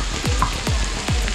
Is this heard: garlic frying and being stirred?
yes